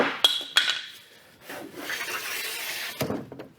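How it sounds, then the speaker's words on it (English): A hand plane shaves the edge of a wooden board for boat transom planking, giving a couple of sharp starting scrapes and then a longer, softer rasping stroke, close by and with no talk. "I'm planing the edge of this one."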